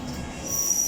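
London Underground Metropolitan Line train with a high metallic wheel squeal rising over a low rumble of running rails, growing louder toward the end, with no voices.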